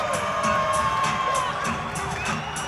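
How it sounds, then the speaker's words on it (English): Crowd at a professional bodybuilding competition in Pittsburgh cheering wildly, with dense shouts, whoops and high yells filling a large hall, loud and continuous throughout. "You guys should hear the crowd in here. They're just going absolutely wild for these guys."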